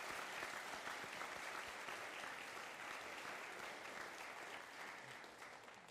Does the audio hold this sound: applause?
yes